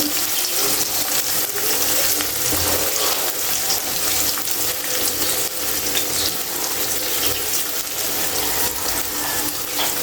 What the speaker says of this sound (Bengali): মাছ বসাবো।